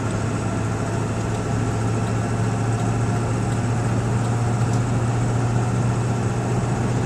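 Steady drone of a 2002 Ford 7.3L Powerstroke diesel truck with a CNG conversion cruising on a highway, a constant low engine hum with road noise throughout, no voices.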